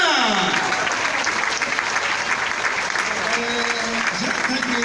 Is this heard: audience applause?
yes